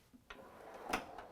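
A toolbox drawer slides and clicks with a few faint metallic knocks and a brief rolling rattle, close but quiet, with no talk over it.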